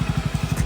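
Motorcycle engine idling as the bike comes to a stop, a steady low putter with regular pulses, close and moderately quiet.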